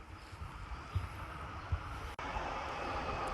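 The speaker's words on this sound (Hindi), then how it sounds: "तो ये रही दोस्तों ट्राम" A tram pulling into a stop at Leipzig Bayerischer Bahnhof rumbles low and continuously, with a couple of dull wheel knocks, a short break, then a steadier, louder roll.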